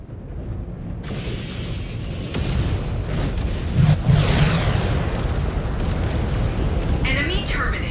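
Explosions in the MechWarrior 5: Clans video game, heavy booms breaking out at about one, two and four seconds over a constant loud rumble of mech combat, with sharper crackling bursts near the end.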